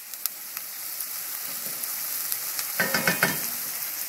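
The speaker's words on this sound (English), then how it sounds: "Get that all, these onions sweating well." Onions sweating in a pot over a high flame for turkey chili, a soft steady sizzle with scattered crackles and a short burst of stirring scrapes near the end, close and alone.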